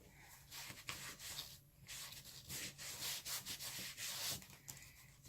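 Paper edges of an art journal page are rubbed to distress them, giving a steady scratchy scuffing made of quick repeated strokes, faint and close with no voices.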